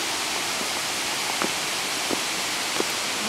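Dry Falls waterfall in Highlands, North Carolina, running lower than usual after little rain, gives a steady, broad, moderately loud rush of falling water, with a few faint knocks over it.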